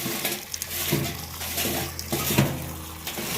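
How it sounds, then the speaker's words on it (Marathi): Water splashes and pours into a bowl of peeled garlic cloves and chopped ginger in a kitchen, a close, continuous running stream with small sloshes and no voices. "आता याच्यामध्ये आपण पाणी टाकणार आणि हे ठेवणार आहे एक अर्धा तास"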